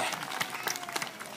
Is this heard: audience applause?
yes